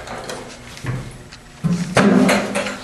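A door is handled and set into place, producing several close thuds and scraping knocks that grow louder toward the end, with no speech.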